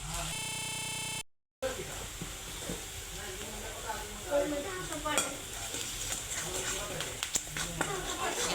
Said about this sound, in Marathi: खोबरं टाकते तेवढं त्याला चांगलं भाजून घेते